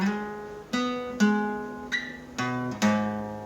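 An electric guitar slowly plays the opening half of a riff, a handful of distinct plucked notes and short bends sounding clearly and alone, each ringing briefly before the next.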